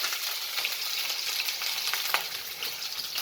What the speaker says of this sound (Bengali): একটু ভেজে হালকা করে ভেজে নেবো